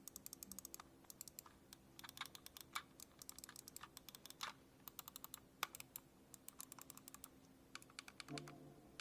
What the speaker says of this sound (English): we did the quick little typing test